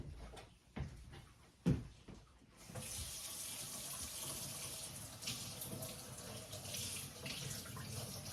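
Carrots rinsed under a running kitchen tap: a couple of knocks and clunks at first, then the faucet opens into a steady, fairly loud rush of water splashing in the sink that continues to the end.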